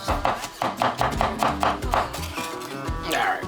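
A knife finely mincing onion on a cutting board for a small batch of Korean-style brisket taco topping, a quick steady run of close, crisp chops that pauses briefly before a few final cuts.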